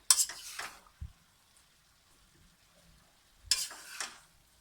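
Chicken, vegetables and macaroni being stirred in a pan, with two short bursts of scraping and sizzling separated by a quiet stretch and a single soft knock.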